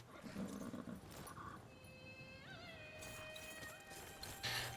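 Horse in the Skyrim video game, with a neigh or whinny and light clip-clop hooves over a busy game soundscape, moderately loud with faint voices mixed in.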